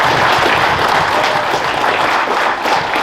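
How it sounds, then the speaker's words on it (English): At a high school football Player of the Year banquet in Richland County, the room breaks into loud, continuous clapping from a large crowd, steady and close for the whole stretch. "Let us all take a moment to applaud these young men."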